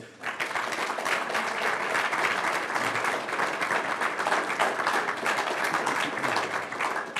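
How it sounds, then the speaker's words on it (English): Sustained, loud applause fills a hall at a Pro Football Hall of Fame event, a thick wash of clapping from a large audience that holds steady from start to finish. "So let's give him another round of applause."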